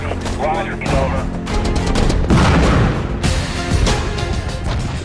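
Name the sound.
machine gun fire in a firefight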